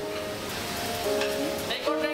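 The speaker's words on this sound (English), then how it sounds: "including freshly grilled wagyu." Wagyu beef sizzles on a grill at a buffet's Japanese station in the Philippines, a steady dense frying hiss with clinks and brief tones from the busy dining room.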